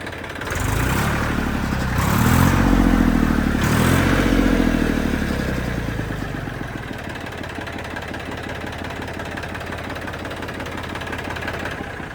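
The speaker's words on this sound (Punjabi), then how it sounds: "ਲੋ ਬਾਈ ਸਟਾਰਟਿੰਗ ਆਪਾਂ ਤੁਹਾਨੂੰ ਦਿਖਾਤੀ ਵੀਰੇ ਟਰੈਕਟਰ ਦੀ" A Massey Ferguson 241 tractor engine cranks and catches with a loud clattering surge, then settles into a steady, even diesel idle that carries on alone.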